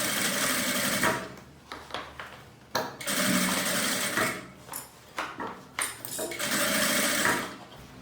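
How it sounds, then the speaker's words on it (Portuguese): Sewing machine stitching around the edge of fabric for a double toiletry bag: bursts of rapid mechanical whirring and ticking separated by short pauses, close and moderately loud, with no talk. "Ó, então vou costurar a volta toda, até chegar aqui onde a gente começou a costura."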